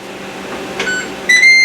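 A Ninja Combi cooker starts on its sauté setting, giving a soft button press and then a loud, sustained electronic beep tone over a quiet appliance hum.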